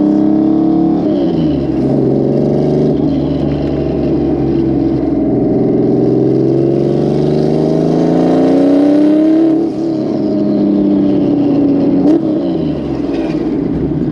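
An EG33-swapped Subaru WRX STI pulls hard under boost, its engine droning loud and close with rising and falling revs across a long, continuous run.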